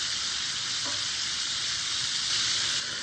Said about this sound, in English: You don't want just a nice sear on the pork. You want to make sure it's fully cooked.